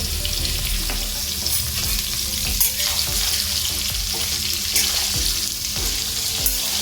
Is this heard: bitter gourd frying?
yes